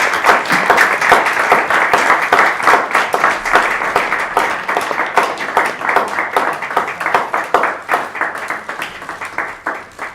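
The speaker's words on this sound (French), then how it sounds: "On les applaudit, merci." Sustained audience applause for four conference speakers at a bilingual event, loud and dense with many hands clapping, gradually thinning toward the end.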